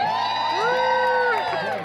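Fans cheering at Heartland fan day, a short burst of crowd shouts and whoops rising and then fading out.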